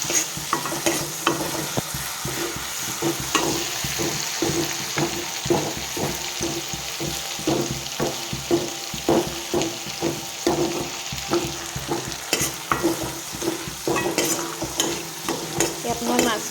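Fish pieces frying in a pan with salt, panch phoron and mustard, stirred with repeated scraping strokes over a steady sizzle, close and fairly loud, no talking.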